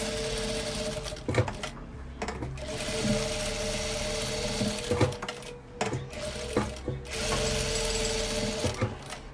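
A sewing machine stitches along the edge of a Versace-pattern patchwork quilt, running in steady bursts with brief pauses between runs, close and clear with no talking.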